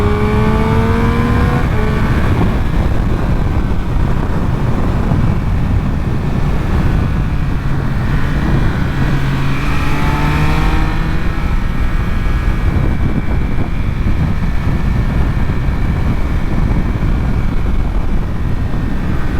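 A 2023 Triumph Speed Triple 1200 RS three-cylinder motorcycle engine pulling hard past 6000 rpm, its tone rising in pitch through the gears as it accelerates, loud and continuous under heavy wind rush, with no talking.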